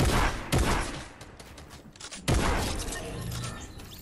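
Gunfire bursts out in a shooter video game, two sharp loud volleys separated by mechanical clicks and rattling, with quieter scattered activity in between.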